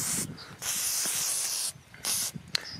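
Oil sprays onto horsebox bolts from an aerosol can in several close, loud hissing bursts of varying length separated by short gaps.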